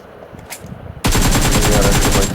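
Sustained automatic fire from a UMP submachine gun in PUBG, a loud continuous rapid burst starting abruptly after a quiet moment and running to the end.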